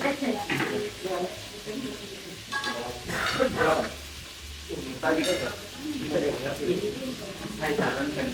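During a cooking demonstration of poulet basque, food sizzles and fries in a pan while a utensil stirs and scrapes, with people talking over the cooking.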